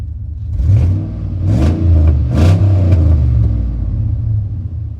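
A 2001 Chevrolet 2500HD truck fitted with a Boss V plow rolls down the road, its engine giving a steady low rumble and whir that swells slightly as it accelerates, close and continuous, with no talking.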